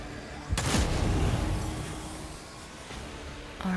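Heavy gunfire from a Warhammer 40K Rogue Trader battle: a sudden loud blast followed by a rumbling, decaying barrage, then a second burst starting near the end.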